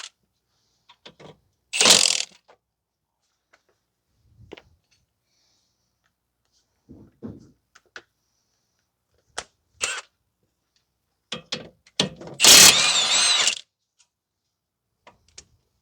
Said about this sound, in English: Now we have to turn this to take the brake caliper off.